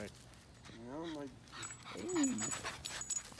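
A dog whimpers in two drawn-out, wavering whines close by, with faint panting and background noise; a person talks briefly around it.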